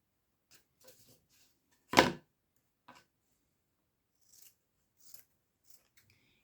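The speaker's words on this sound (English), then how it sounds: "And then you can cut it off." Scissors cut through craft material for wooden farmhouse winter decor, one sharp crisp snip standing out among a few faint small clicks and snips in an otherwise quiet room.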